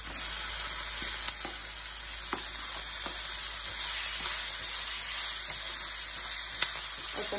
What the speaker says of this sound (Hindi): हरी मिर्च को 1 मिनट तक पकाना है हमें।